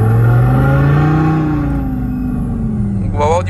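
A Renault Clio 4 engine revving loudly and close, with pitch sweeping up and then easing down over a few seconds and a brief higher whine near the end.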